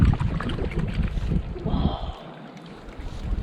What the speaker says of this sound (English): Kate decided to go for a paddle amongst the icebergs